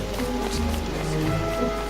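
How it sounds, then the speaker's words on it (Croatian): Rain falls in the video game Don't Starve, a soft continuous patter of drops layered over a low steady game ambience, with no speech. "prestala da padne kiša, pada kiša"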